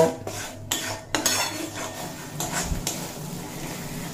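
A spoon scrapes and clatters against a pan as spice paste for mutton curry is stirred and fried on low to medium flame, the metallic knocks coming in irregular bursts over a faint low sizzle.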